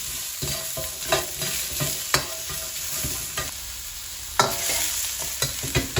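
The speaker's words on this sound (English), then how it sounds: "Then go the carrots. Again, just a minute or so in the wok." Carrots stir-fried in a wok after onions, with a steady close sizzle and repeated scraping tosses of the spatula at an uneven rhythm, fairly loud and continuous.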